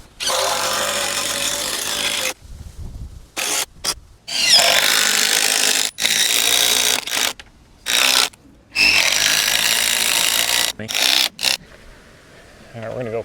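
A power tool drives deck bolts through wooden deck posts in repeated loud, grinding bursts of several seconds each, broken by short quiet gaps, with someone talking at times.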